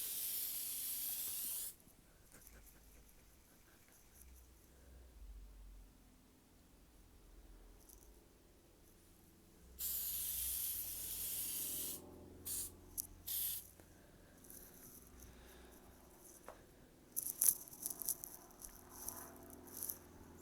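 Meguiar's headlight coating sprays from an aerosol can onto a car headlight in long, loud hissing bursts separated by quiet pauses, ending with shorter, choppy sprays and light rattles of the can.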